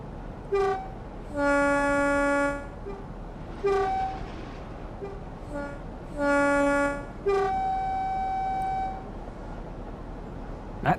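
A Northern Trans-Pennine diesel train in Train Sim World sounds its two-tone horn in several long blasts, repeated in separate bursts over a steady engine rumble.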